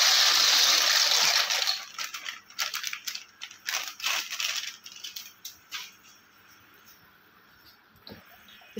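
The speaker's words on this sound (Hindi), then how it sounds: "इसमें हम जो है ना मकरोनी डाल देंगे।" Dry macaroni poured into a pot of boiling salted water with a little oil, a rattling, crunchy rush of pasta at first, then scattered clinks and bubbling that fade to a quiet simmer.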